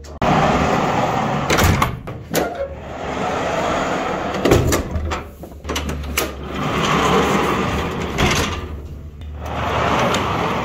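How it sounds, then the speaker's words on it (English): Doors being shut in a horse barn, a series of sharp thuds and clanks spread over about ten seconds against a steady background hum, fairly close. "Time to close some doors."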